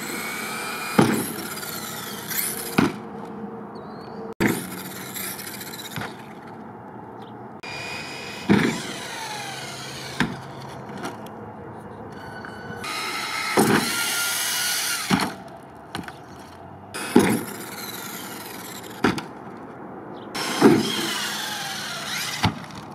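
A Traxxas Rustler RC car drives over grass and jumps onto air mattresses, its electric motor whining in bursts between repeated thumping landings and rattles, moderately close, with no talking.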